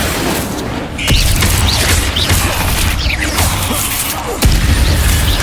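Spell effects in the video game Hogwarts Legacy: loud booming blasts and crashing impacts with swishing whooshes, two heavy hits standing out over a dense rumbling battle bed with no talking.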